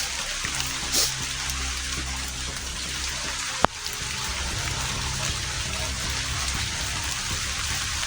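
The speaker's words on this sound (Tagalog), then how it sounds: "Maraming ulan guys, oh" Heavy rain pours down in a steady, dense hiss, with one sharp knock cutting through partway along.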